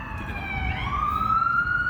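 Ambulance siren passing outside, a steady rising wail heard at moderate distance over low traffic rumble.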